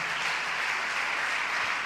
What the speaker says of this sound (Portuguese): Alguém aplauda o Senhor.